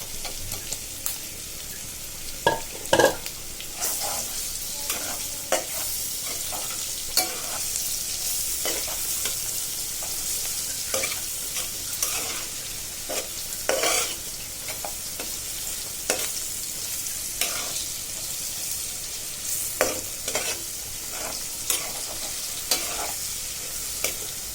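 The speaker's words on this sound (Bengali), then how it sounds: "এবার আমি মশলা মেখে রাখা ভাজা চিংড়ি মাছগুলো দিয়ে দিচ্ছি" Spice-coated prawns frying in a pan with already-fried onion and garlic, a soft constant sizzle broken by repeated scraping and clattering stirs, fairly quiet and close, with no talking.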